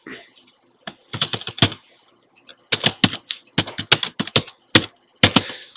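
Typing on a computer keyboard, close and crisp, in several quick bursts of clattering keystrokes separated by short pauses, with no talk over it.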